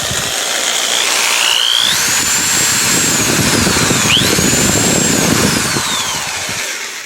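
Small corded electric drill of about 2.5 amps, powered through an inverter from a 12.8V 100Ah LiFePO4 battery, whines loudly and steadily at close range, its pitch rising and falling as the trigger is eased and squeezed, with no talking.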